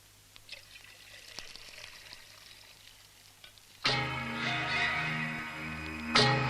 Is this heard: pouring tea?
yes